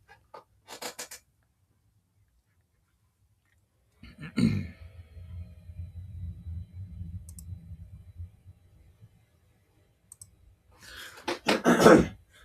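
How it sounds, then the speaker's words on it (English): Two loud, close throat-clearing bursts sit right on the microphone, one early and one near the end, with a low rumbling rasp trailing after the first and a few faint clicks between. "if my clearing my throat is so loud in the microphone"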